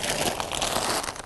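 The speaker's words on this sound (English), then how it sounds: "Here's a root sticking out. Cut that out." A protruding root is cut out of garden soil while planting clematis, giving a short, steady crunching and tearing sound, close and fairly loud, with no voices.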